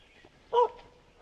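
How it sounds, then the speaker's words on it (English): One short, distant bark from a dog up a hillside in the countryside near Yunfu, China, standing out alone against near silence. "I hear a dog barking up on our left"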